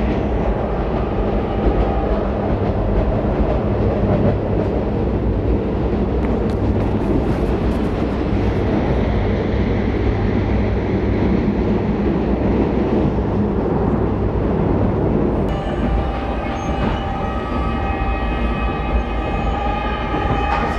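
A passenger train from Embakasi into town rumbles steadily along the tracks, a loud continuous low roar with rattling, shifting to a brighter whining hum near the end.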